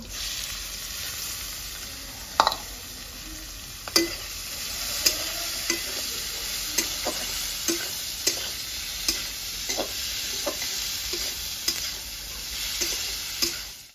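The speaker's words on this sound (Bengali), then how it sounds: "কেটে রাখা পেঁয়াজ দিয়ে দেবো।" Chopped onions frying in hot oil with bay leaves, dried red chillies and whole cumin seeds, giving a steady bright sizzle punctuated by regular sharp clicks of a spatula scraping and stirring the pan.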